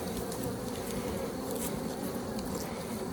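Honeybees drone in a dense, steady buzz around an open hive during a spring inspection, loud and close throughout without pause.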